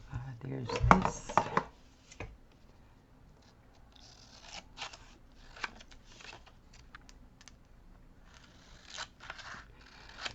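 Scissors cut paper for a food-themed gluebook page, with a burst of loud crisp snips early on, followed by scattered lighter cuts and paper rustles; a person talks faintly at times.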